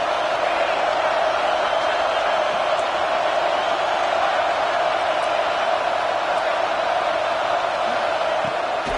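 A steady stadium crowd roar from an NCAA college football video game swells behind the defense on a big third down, a continuous wash of noise under a commentator's voice.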